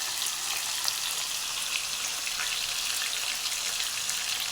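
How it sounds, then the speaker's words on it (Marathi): Paneer pieces coated in cornflour and maida frying in hot oil give a steady, dense sizzle throughout, with no talk. "छान प्रकारे आपलं पनीर तळलं जात आहे"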